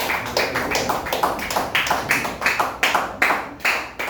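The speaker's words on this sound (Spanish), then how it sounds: "Den unas fuertes palmas al Señor." A church congregation claps hands together in a loud, steady rhythm. The sharp, evenly spaced claps come roughly two to three per second, close and continuous, with no talking over them.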